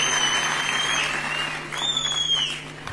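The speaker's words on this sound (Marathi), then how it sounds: "आपण जोरदार टाळ्या वाजवून त्यांचं मनापासून अभिनंदन आणि कौतुक करूया" A political rally crowd breaks into loud, sustained applause for an elected MP, with sharp whistles rising over the clapping toward the end; no speech is heard.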